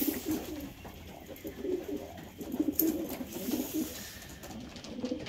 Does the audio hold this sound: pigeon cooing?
yes